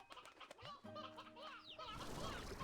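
Chickens in the video game Slime Rancher clucking as they lay an egg, several quick squawking calls in a busy run of game sounds, with denser noise near the end.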